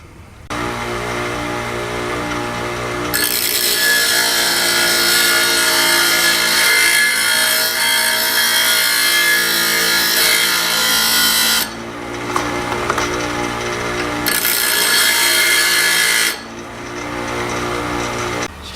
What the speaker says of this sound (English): as you're grinding this thing, you want to make sure you grind it at that angle